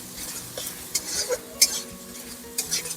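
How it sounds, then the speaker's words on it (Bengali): A spatula stirs mustard-poppy spice paste in a pan for a ridge gourd dish, giving close scraping and clinking strokes in irregular bursts over a faint sizzle. "এবার এই মশলাটাকেও খুব ভালো করে মিশিয়ে নেব, আর একটু ভাজা ভাজা করে নেব"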